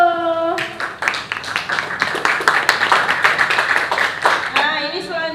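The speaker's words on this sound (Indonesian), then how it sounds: "Beri tepuk tangan untuk Cio." A classroom of pupils claps for a classmate named Cio in an Indonesian lesson. The burst of close, uneven clapping starts after a teacher's voice, runs about four seconds and fades as talking resumes.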